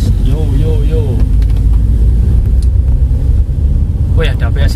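A Wuling Confero climbs a long wet hill in first gear on half clutch, its engine droning loud and heavy throughout under steady cabin rumble, while people talk over it.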